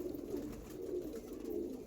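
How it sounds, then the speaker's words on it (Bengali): Andhra Lambadi pigeons, a breeding pair, coo in soft, repeated low rolling calls close by, steady across the whole stretch with no talking. "লাম্বাডি পায়রা আন্ধ্রার,"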